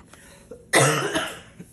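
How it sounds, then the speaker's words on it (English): A single harsh, raspy cough close to the microphone, breaking out of near silence after a faint breath. "I just can't get rid of this nagging cough that's still lingering on."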